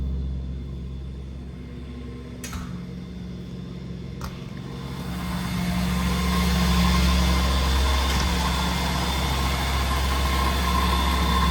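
An Edge Performance 912 STi aircraft engine, rated above 155 horsepower, runs steadily inside a dyno cell, giving a loud, continuous low rumble with a constant drone that swells slightly partway through.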